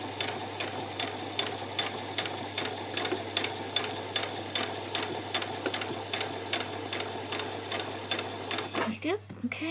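A sewing machine stitches a skirt placket in a steady, rapid run of close mechanical needle beats, loud and continuous for most of the span before stopping abruptly near the end.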